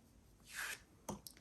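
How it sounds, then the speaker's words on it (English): A pen or marker scratches across paper to mark a cutting line for an altered book cover, one soft drawn stroke followed by a couple of short, sharp taps, close and fairly quiet. "So I'm just going to mark where I need to cut this."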